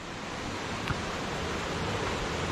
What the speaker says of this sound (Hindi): ये पानी आ रहा है और बहुत ही साफ़ है, क्रिस्टल क्लियर वाटर है।